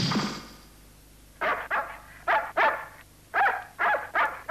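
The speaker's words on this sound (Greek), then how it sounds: "Ο σκύλος πάλι." A dog barks in the animated cartoon Kabamaru, giving loud, close yaps that come in quick pairs and short bursts separated by brief pauses.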